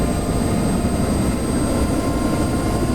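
UH-60 Black Hawk helicopter engines in DCS World spooling up, a steady loud turbine roar with a high whine and dense low rumble, continuous and close with no talking.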